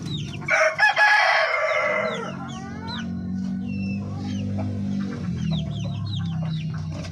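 A darag rooster, a Filipino native chicken breed, crows loudly and close, a long drawn-out call, while other fowl cluck and chatter in the background of a farmyard.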